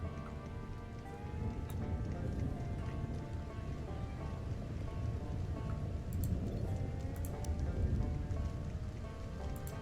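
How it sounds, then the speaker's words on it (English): Rain falls in the video game Stranded Alien Dawn, a steady, even patter on surfaces with a soft low rumble underneath, continuous and fairly quiet throughout. "Rains here."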